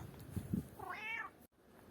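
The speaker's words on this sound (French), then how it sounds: "à chaque fois que je fais une vidéo, il y a un petit chat d'amour qui vient" A small cat meows once, close and fairly quiet, a rising-then-falling cry over soft background noise with a faint rustle before it.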